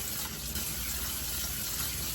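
Cold tap water runs steadily over cooked pasta being rinsed for a chicken Caesar pasta salad, a constant close hiss and splash with no pauses.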